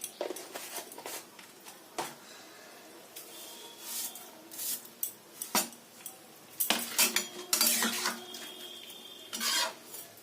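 A spoon clinks and scrapes against a cooking pot as vegetables are stirred with ghee and roasted cumin, coriander and dried chilli spice mix. Irregular clattering bursts with quieter gaps, close by, with no voices.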